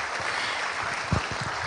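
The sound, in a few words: audience applause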